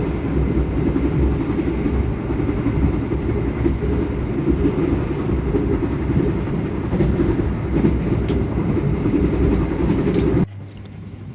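Steady loud rumble of the Argo Parahyangan passenger train rolling along the tracks at about 100 km/h, continuous throughout, cutting off abruptly near the end into quieter background.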